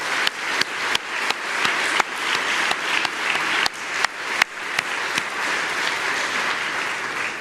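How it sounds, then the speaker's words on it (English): Steady, dense applause from a festival audience at MinnPost Festival honoring its supporters. The clapping is close and sustained throughout, with a few sharper individual claps standing out above the crowd. "give them all a round of applause"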